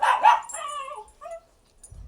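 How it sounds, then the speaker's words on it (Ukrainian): A pet dog gives a couple of sharp, close yelping barks that trail into drawn-out whining whimpers, then falls quiet. "Так, це моя собака Бім."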